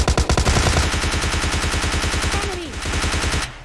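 Gunfire in the mobile video game PUBG Lite, a loud close burst of rapid automatic shots that runs steadily, then stops abruptly at the end.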